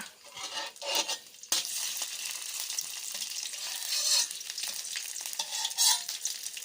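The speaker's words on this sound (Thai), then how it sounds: "ก็เลยเดี๋ยวผัดน้ำพริกแกงนะคะ" Homemade red curry paste crackles as it is stir-fried in a pan, with loud bursts of sizzling and scraping from a spatula plus light metallic clinks throughout. There is no talking.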